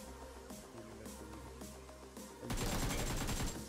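Gunfire in PUBG Mobile on the Livik map: steady bursts of rapid shots under background game music, then a louder, denser volley of fire near the end, all without talk.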